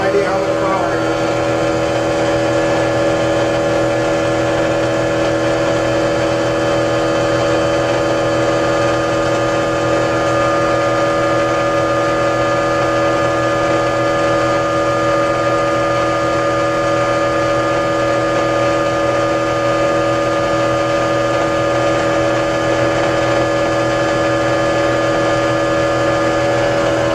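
A generator motor runs steadily under a load of 100-watt light bulbs, giving a loud, continuous droning hum with a stable pitch that carries on without break from start to finish.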